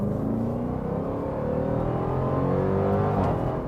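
A Dodge Durango Hellcat engine revs up and roars continuously, rising in pitch as it accelerates, loud and near with no speech.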